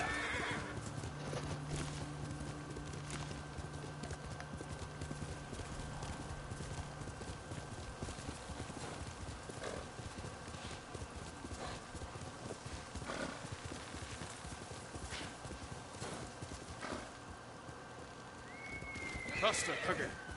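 The horse Kage gallops in the video game Ghost of Tsushima with a continuous rhythmic hoof clatter and an occasional whinny, while someone talks over it.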